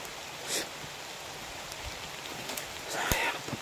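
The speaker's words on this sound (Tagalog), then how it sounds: "umuulan na mga kabis na" Rain falling outdoors, a soft steady hiss with a few louder bursts, faint and continuous.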